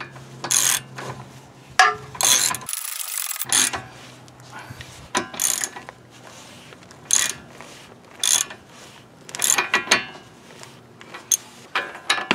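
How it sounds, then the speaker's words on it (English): A torque wrench ratchets on a lower control arm bolt of a 2012 Ford Fusion. Crisp, close clicking comes in repeated bursts, with a short louder ratchet run. "got my torque wrench set to 148 foot-pounds"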